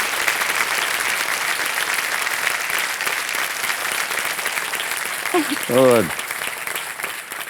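A studio audience on the Kaun Banega Crorepati Season 14 game show gives loud, sustained applause that fills the whole stretch, with a short spoken word near the end.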